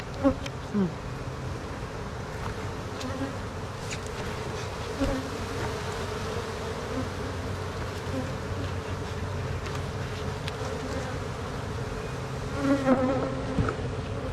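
Honey bees buzz steadily around an open hive, a dense continuous drone with a few louder passes close by.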